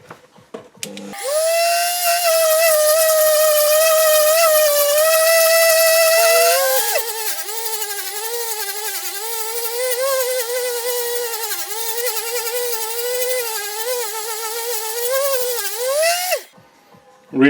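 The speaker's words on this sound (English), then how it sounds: "I'm going to use a mandrel where I put a piece of sandpaper in, just to give it the last fine grinding" A mandrel wrapped with sandpaper fine-grinds the inlet of a Piaggio moped engine, producing a loud, steady high-pitched whine that holds for about fifteen seconds, wavering slightly as pressure changes, then cuts off.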